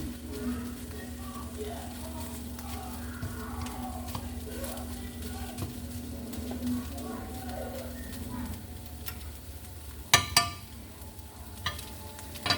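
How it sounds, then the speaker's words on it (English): Onions and broken-up meat sautéing in a pan, a steady low sizzle with faint stirring scrapes running throughout, ending in a couple of sharper clanks of a utensil near the close. "I'm just going to saute it down"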